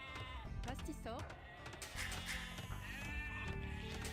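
Sheep bleat a few times in Age of Empires 2, short wavering cries mixed into game sounds with a voice talking over them.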